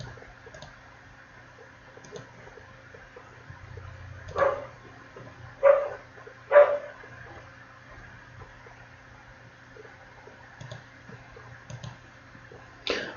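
Three muffled dog barks come up from a floor below in quick succession midway through, faint and distant over low room hum and a few soft clicks, with no speech.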